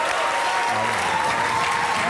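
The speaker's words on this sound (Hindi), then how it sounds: "तालियां बजती रहनी चाहिए।" An audience applauding on a studio interview show, a loud continuous roar of many hands clapping that stays dense and even throughout, with faint voices blended into the crowd.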